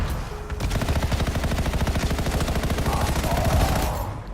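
Rapid automatic gunfire in the video game Anthem, a long continuous burst of evenly spaced shots, loud and close, with no talking over it.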